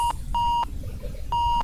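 A cockpit alarm in a Boeing 787 inside the Flightgear flight simulator sounds during a double engine failure, repeating steady electronic beeps in three bursts over a low background hum.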